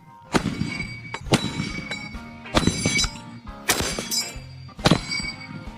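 M1 Garand rifle action worked in a series of sharp metallic clacks and snaps, about six loud, crisp impacts spaced roughly a second apart, close and ringing, with no talk.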